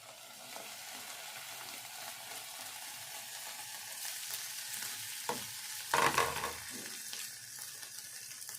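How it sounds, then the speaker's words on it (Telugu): Ivy gourd fry sizzles steadily in a pan as it is stirred, with a brief louder scrape and clatter of the spoon partway through; no talking. "ఇప్పుడు ఒక్కసారి అయితే కలుపుకుందాము"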